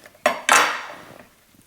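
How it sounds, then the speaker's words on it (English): A knife striking a board while cutting through a lemon and dill smoked chicken, two close, sharp knocks in quick succession, the second ringing out briefly. "I'm going to take this knife and just cut that."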